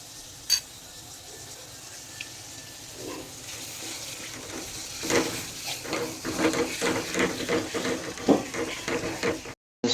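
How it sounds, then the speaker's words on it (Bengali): Chopped onions frying in hot oil for a Bengali goat curry, a steady close sizzle with stirring clatter building in the second half, no talking. "প্রথমে আমি পেঁয়াজ কুচিগুলো গরম তেলে দিয়ে দিব।"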